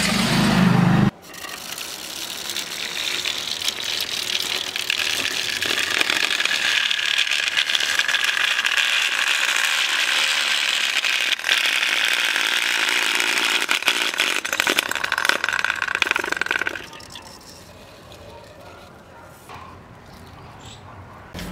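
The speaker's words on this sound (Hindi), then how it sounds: "अब हम इस दीवार के अंदर छेद करेंगे इस तरफ।" An electric drill fitted with a steel rod bores a hole into a house wall, whining steadily and loudly for about fifteen seconds before cutting off to quieter background.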